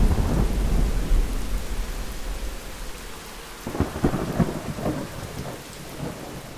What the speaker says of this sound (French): Ah, ça tonne.